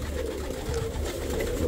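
Pigeons cooing in a dovecote, a low throaty continuous burble from several birds close by, with some rustling as they scuffle in the nest.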